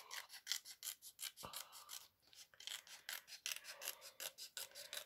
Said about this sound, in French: Donc, je découpe.